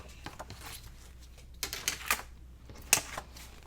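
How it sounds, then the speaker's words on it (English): A magazine page is torn straight along a ruler with a series of short, rough ripping bursts over a few seconds, close and fairly quiet, growing sharper toward the end, with no talking. "I'm just going to put my ruler up here so I can tear that"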